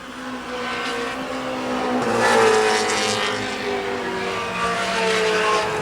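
Race cars, including an Acura Integra number 08 and a Volkswagen, roar around a racetrack in a continuous loud blend of engines with some tire squeal as they battle through the turns.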